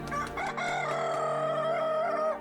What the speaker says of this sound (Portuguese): Naquele instante, o galo cantou.